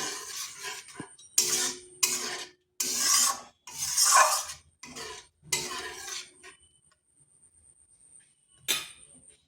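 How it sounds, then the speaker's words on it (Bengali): Boiled red lentils being mixed with spices in a pan, a loud scraping, rasping spatula sound in several bursts with short pauses, closing with a fainter scrape. "এরপরে ডালটা মশলার সাথে মিশিয়ে নেব।"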